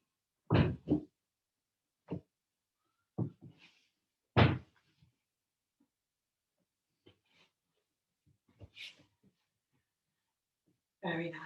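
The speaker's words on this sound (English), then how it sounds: "then you drop your pelvis back onto the floor with a little bit of a thud" Several dull, fairly loud thuds of a pelvis dropping back onto the floor during a yoga session, spaced irregularly with quiet gaps and faint small sounds between them.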